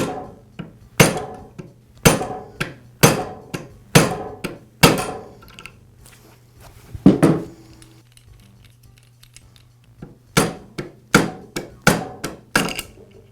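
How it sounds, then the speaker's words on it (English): A rubber mallet strikes the end of the armature on a DeWALT chop saw during bearing removal, giving sharp, loud, close knocks in quick rhythmic runs with a pause mid-way, then another burst of taps, with a faint steady hum underneath. "Now I'll use a rubber mallet to strike the end of the armature and tap the armature away from the bearing."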